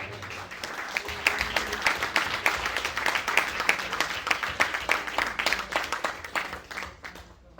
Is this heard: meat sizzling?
no